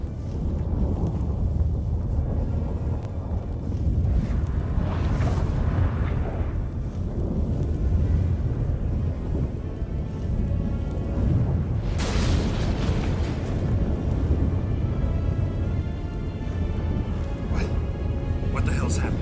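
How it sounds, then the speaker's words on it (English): A storm rumbles in Witcher 3 Wild Hunt, with low, rolling thunder-like booms and gusting wind that swell and fade across the scene, while voices speak over it. "That a storm?"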